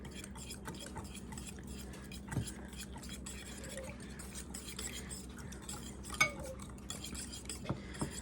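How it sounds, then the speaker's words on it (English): Burrito filling is stirred in a pan with quiet, scattered scrapes and light utensil clinks against the metal, faint and close, over a low background hum. "Go ahead and give this a stir"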